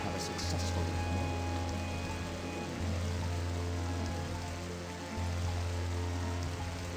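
A waterfall in the video game I Have No Mouth And I Must Scream roars as a steady, dense wash of rushing water, with a low droning tone pulsing beneath it.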